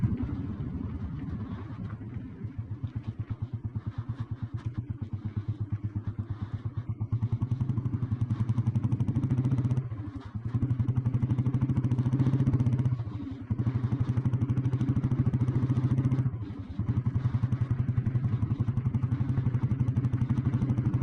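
An old Royal Enfield Bullet petrol motorcycle engine runs close by with a steady deep thumping idle, rising briefly in revs a few times with short dips between.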